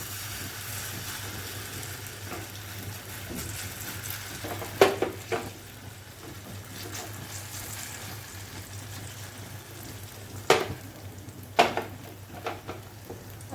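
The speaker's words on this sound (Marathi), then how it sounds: "आता आपल्याला हे खरपूस असे फ्राय करून घ्यायचे आहेत। आपल्याला शॅलो फ्रायच करायचे आहेत।" A thin-spread crispy breakfast snack shallow frying in a pan, giving a soft, steady sizzle under a low constant hum, with a few louder clinks and scrapes from handling, and nobody talking.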